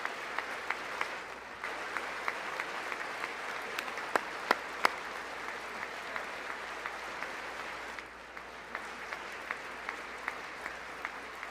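A State of the Union audience applauds steadily for honored guests, a dense wash of many claps sustained throughout with a few sharper close claps standing out and a brief lull near the end.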